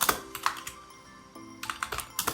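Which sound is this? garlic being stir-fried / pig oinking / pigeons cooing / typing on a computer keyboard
typing on a computer keyboard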